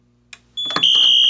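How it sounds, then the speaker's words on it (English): After a click and a button press, a Simplex 4004 fire alarm panel re-alarms a zone and starts sounding a loud, continuous high-pitched electronic tone close by. "you can re-alarm a zone and it'll go back into alarm"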